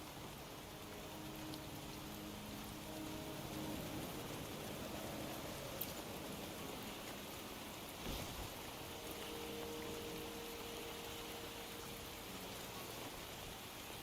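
Steady rain falls in the video game Wuthering Waves, a continuous soft hiss of drops spread evenly across the whole stretch, with faint low tonal background ambience and no talking.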